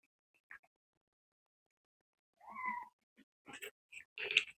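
Indoors, a cat meows faintly a few times with short, scattered cries and small scratchy sounds amid near silence.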